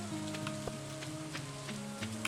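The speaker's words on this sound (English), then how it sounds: "A warm rain is a pleasant way to get clean." Rain patters steadily in the farming game Stardew Valley, a soft constant hiss of drops under a looping musical drone, with a few brighter taps standing out.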